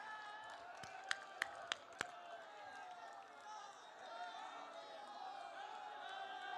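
Distant crowd clapping at an Indian political rally welcoming Amit Shah, a faint continuous patter of many hands with a few sharper claps standing out early on, under a low murmur of voices.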